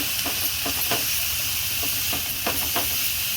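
Chopped coriander stirred through hot oil for kothimbir vadi fries with a steady close hiss and sizzle, with soft scraping taps of the spoon scattered throughout.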